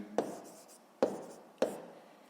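Three short scratchy pen strokes on paper, spaced about half a second to a second apart, writing down a sixth-grade math answer for a room's air volume, close and quiet with no talk.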